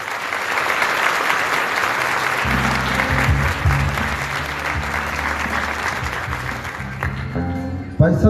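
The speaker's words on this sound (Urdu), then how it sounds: "اس لیے پادری صاحب کے لیے، ان کے خاندان کے لیے بہت ساری تالیاں ہونی چاہیے" A church congregation applauds the pastor and his family during a Sunday worship service, the sustained dense clapping running throughout while a low instrumental tone and other sounds join partway, ending with a few louder knocks.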